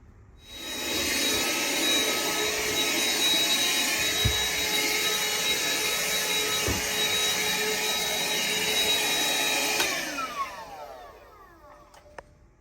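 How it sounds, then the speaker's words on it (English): A Ryobi vacuum cleaner starts up, runs with a loud steady whine for about nine seconds, then shuts off and winds down, with a few small knocks near the end. "That vacuum you saw her using goes home with us."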